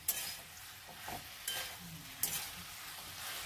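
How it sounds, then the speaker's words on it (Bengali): A paste of green and red chili, cumin, coriander and ginger is stirred in a pan, with a soft sizzle and a few faint scrapes heard close and quiet. "সব দিয়ে মশলাটা কষাবো।"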